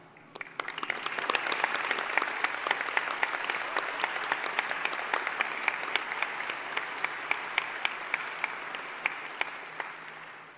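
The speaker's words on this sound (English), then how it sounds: "Please join me in a round of applause for all they have done for us." Sustained applause from a large audience at a high school graduation ceremony, dense steady clapping lasting throughout with sharp individual claps standing out, no talking.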